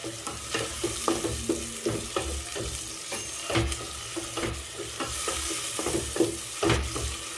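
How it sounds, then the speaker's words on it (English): Chopped pepper frying in a pan for a local sauce is stirred briskly. Repeated scraping strokes fall in an uneven rhythm over a constant close sizzle. "So I added my pepper now. Stir it, stir."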